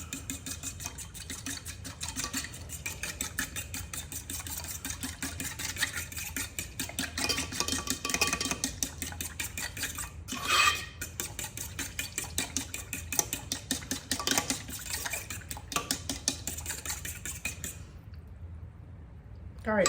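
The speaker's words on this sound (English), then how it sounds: "We'll give this a little whisk." A whisk beats seasoning for Louisiana fried shrimp in a cake pan, a rapid steady run of light scraping clicks lasting well over fifteen seconds, close and fairly quiet, then it stops.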